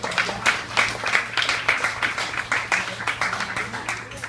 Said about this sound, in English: Who knew alcohol would get such a round of applause?